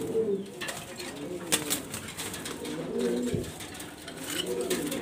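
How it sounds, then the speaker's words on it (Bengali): Pigeons coo softly in low, rolling calls, with a brief flutter of wings and some background rustling nearby. "এই কবুতরটা মাশাআল্লাহ টপ কোয়ালিটি"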